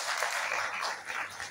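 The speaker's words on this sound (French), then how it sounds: "Je pense qu'on peut applaudir encore." A crowd applauds the newly elected GPMCI president at a general assembly, steady dense clapping throughout at moderate distance.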